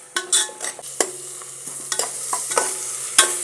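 Onions with slit green chillies and ginger-garlic paste sauté in a pan, with a soft sizzle under a run of sharp spoon-against-pan knocks and scrapes at an uneven rhythm.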